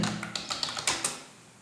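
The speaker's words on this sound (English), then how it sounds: "and then you start typing the text" Typing on a computer keyboard, a short burst of seven or eight crisp key taps in an uneven rhythm, close and fairly quiet, then stopping.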